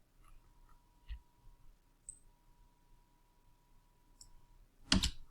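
A computer mouse clicks a few times during a Maya 2022 modeling session, sparse soft clicks followed by one sharper, louder click near the end over a quiet background.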